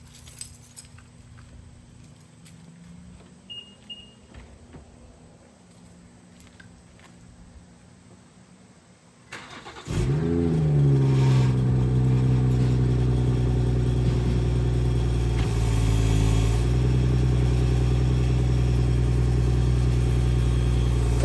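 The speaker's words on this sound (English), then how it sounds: "Everybody like 340i exhaust rattle." A BMW 340i engine starts after a quiet stretch of key jangling and faint background, then runs loud and close with a steady idle drone, a brief rev near the end and a metallic exhaust rattle beneath.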